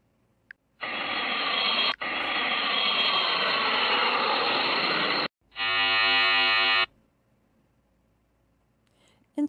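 An airplane sound effect from the InShot video editor's sound library plays as a loud, steady synthetic roar for about four and a half seconds, then breaks off, followed by a shorter tonal buzzing burst before silence.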